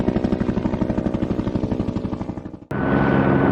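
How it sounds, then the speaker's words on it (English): A heavy aerial crane helicopter rotor pounds in a steady, rapid rhythm, loud and near, before switching suddenly to a dense, continuous turbine roar. "Tilt rotor helicopter."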